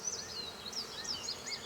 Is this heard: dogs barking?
no